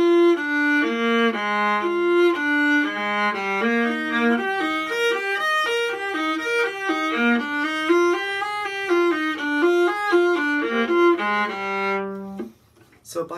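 Solo viola plays the opening of Zelter's Viola Concerto, a continuous sustained melodic line with steady bowed notes, close and fairly loud, ending abruptly before a brief rustle.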